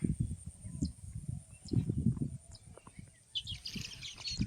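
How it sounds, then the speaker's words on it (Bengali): A flock of sparrows in a ripe rice field chirps with scattered thin calls over a steady low rumble of outdoor noise, with a denser burst of twittering near the end. "এই যে চড়াই পাখির ঝাঁক ধান পেকেছে একটা জমিতে আর চড়াই পাখিরা এসেছে ধান খেতে"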